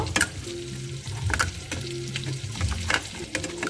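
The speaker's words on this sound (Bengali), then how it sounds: "জিরের গুঁড়োটা মশলার মধ্যে দিয়ে দিলাম দিয়ে মিক্স করে নেব" A masala with cumin powder fries in a pan with a continuous close sizzle, broken by a few sharp scrapes of a spoon as it is stirred.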